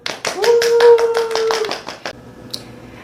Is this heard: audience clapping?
yes